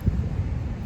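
Steady wind gusting across an open beach, a continuous low rumbling buffet with no clear breaks, loud and close to the microphone.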